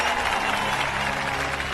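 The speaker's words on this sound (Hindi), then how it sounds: "ताली बजाओ ताली।" An audience claps in a hall during a talk about farming and agriculture, a loud, dense, continuous burst of applause from many people, close and sustained throughout.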